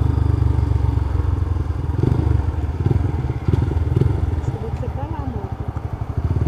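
A motorcycle engine rumbles steadily up close, with low mechanical clatter and a voice speaking over it.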